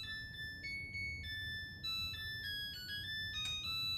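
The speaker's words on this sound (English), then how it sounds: "that song that washing machines play now when they're done" Washing machine end-of-cycle melody: a clean electronic chime tune of stepped beeping notes, played alone at a moderate, fairly quiet level over a low background hum.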